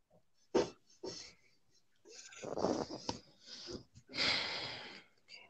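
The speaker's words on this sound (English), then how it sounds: "if anyone hears that noise in the background, that's actually my sister's kid snoring" Breathy snorting and wheezing sounds of a child snoring, in uneven bursts, close and fairly soft, with short pauses between breaths.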